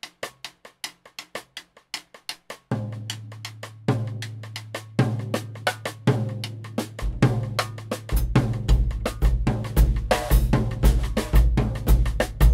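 A Moroccan groove on a drum set opens with sparse, evenly spaced hits, then deeper drums enter and the pattern fills out into a dense, driving rhythm that grows louder toward the end.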